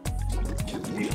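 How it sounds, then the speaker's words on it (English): Vinegar glugs and splashes as it is poured into a plastic bottle, a close, continuous liquid-filling sound with bubbling gurgles over about a second. "I'm going to pour some vinegar inside the plastic bottle like this."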